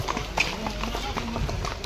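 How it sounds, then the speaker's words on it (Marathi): Horse hooves clip-clop at a steady walking rhythm during a ride at Matheran hill station, close and fairly loud, with people talking over the hoofbeats. "राजूभाई कसं वाटतंय घोड्यावर बसून?"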